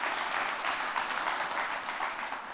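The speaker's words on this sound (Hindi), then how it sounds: "तो आइए शुरुआत करते हैं तालियों से शंकरसिंह वाघेला के स्वागत से" Steady audience applause welcoming politician Shankersinh Vaghela, a dense even wash of clapping at moderate level throughout, with no voices over it.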